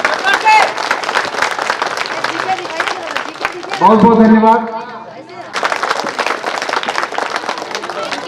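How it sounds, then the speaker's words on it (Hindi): Audience applause for a prize winner at a school competition award ceremony, loud clapping that breaks for a brief spoken thank-you with a tonal voice in the middle, then resumes. "जोरदार तालियों से उनका स्वागत किया जाए।"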